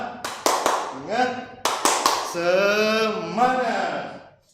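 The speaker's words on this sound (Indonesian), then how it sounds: "kita semua tepuk semangat" Classroom 'tepuk semangat' clapping chant: a few sharp, close hand claps in quick bursts alternate with loud chanted voices, the claps landing in a set rhythmic pattern before the singing phrase.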